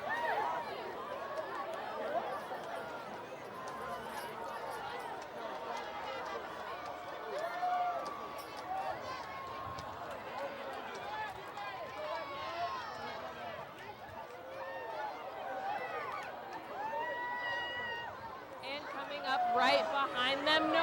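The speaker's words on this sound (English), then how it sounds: "The crowd is getting pretty pumped for this." Homecoming parade crowd at Ohio University cheering and chattering as footballs are tossed out from a passing float, a steady dense roar of many voices with calls rising near the end.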